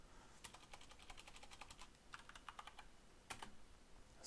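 Quiet, rapid clicking of a computer keyboard as a terminal command is typed, a quick run of keystrokes, a pause, then a few more taps and a firmer final keypress, faint and close.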